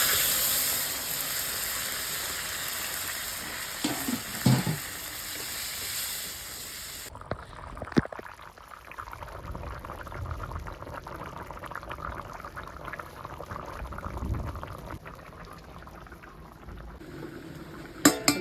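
Prawn and pointed gourd curry simmers in a pot after water is poured in, a steady bubbling boil with a brief pour and lid clatter, continuous and close.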